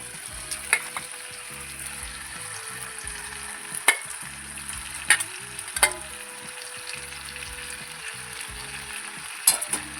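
Chicken sizzling and frying in a pan of well-cooked masala for a home-style deshi chicken curry, a steady close hiss with sharp spatter pops and intermittent stirring scrapes, no voices.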